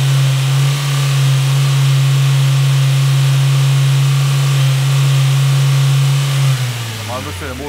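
A VW TSI petrol engine idles with a steady low hum and runs rough, stumbling in slight surges, loud and close in a workshop, with a voice talking briefly near the end.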